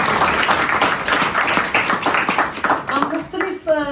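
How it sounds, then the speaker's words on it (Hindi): An audience at a Pakistani community forum event in Denmark claps, a dense patter of hands that thins out near the end, with voices mixed in. "इसके लिए ये तालियों का हक रखते हैं।"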